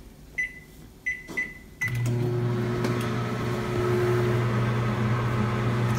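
A microwave oven heating a mug: three keypad beeps, then a thunk as it starts, followed by a loud, steady electrical hum and whir that continues to the end, with no talking.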